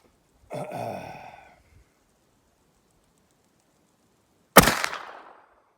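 A .44 Magnum Contender pistol fires a single sharp, loud blast that decays quickly into silence, following a short earlier grunting sound.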